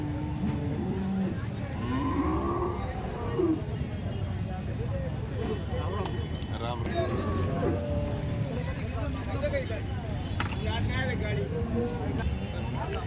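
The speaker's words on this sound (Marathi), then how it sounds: "या ठिकाणी दोन गाई बांधलेल्या आहेत" Cows moo a few times amid a busy outdoor crowd at a cattle market in Chalisgaon, with people talking continuously and occasional clinks and vehicle noise in the background.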